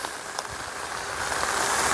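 Rain falling over a village on a rainy morning near the Feni border: a steady, dense hiss of rain that swells slightly toward the end, with no voices.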